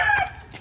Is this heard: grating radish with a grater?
no